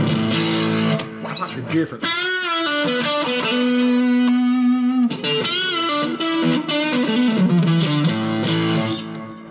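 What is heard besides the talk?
Flamma E1000 guitar with 8D effect through tube amp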